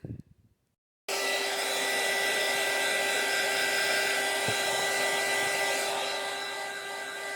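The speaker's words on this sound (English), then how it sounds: "Let me hit it with the heat gun, actually." A heat gun blows steadily on a tissue-covered glass jar in a craft upcycling project, a loud continuous whooshing roar that starts abruptly after a brief quiet moment and holds for several seconds without talk.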